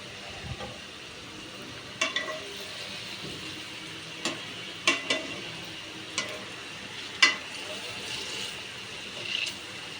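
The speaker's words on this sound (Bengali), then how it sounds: "তেল গরম করে তেলে সুন্দর করে ভেজে নিচ্ছি" Rice-flour palm batter frying in hot oil, a low steady sizzle broken by scattered sharp pops and spatters, fairly faint and close, with no talk.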